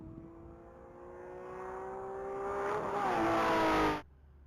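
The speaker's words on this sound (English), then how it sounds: "That's going to be Adam Littman and his green 2013 Porsche 911 Carrera." A green 2013 Porsche 911 Carrera accelerates hard down a mile-long race track, its engine note climbing steadily in pitch and loudness through the gears before cutting off abruptly.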